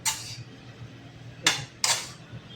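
A small iron kadhai clanks against a kitchen stove, one metallic clink followed by two sharper knocks close together, near and crisp over a low hum.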